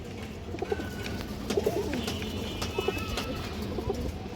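Repeated soft cooing from a female pigeon, several short murmuring coos spread across the moment, close by over a steady low background hum.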